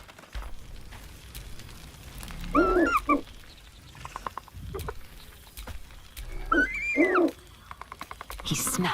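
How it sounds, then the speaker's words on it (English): Scratch, a dog in the video game Baldur's Gate 3, gives a few short barks and rising whines in separate bursts spread over several seconds, close and moderately loud, with a faint background. "Scratch barks merrily and he whines."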